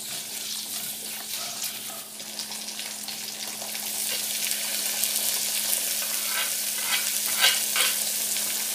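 Steady sizzling of sausage frying in a pan, a continuous crackle with occasional sharper pops, close and moderately loud with no talking.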